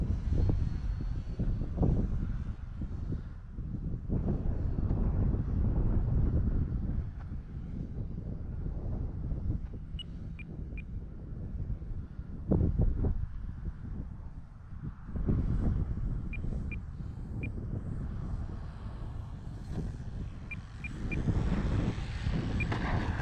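E-flite EC 1500 RC airplane flying in high wind, a steady electric motor whine partly buried under constant heavy wind buffeting of the microphone, with no talking.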